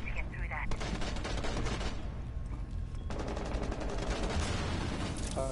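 Gunfire crackles through a Rainbow Six Siege match in repeated loud bursts and rapid volleys, with a short lull midway before another sustained stretch of shots.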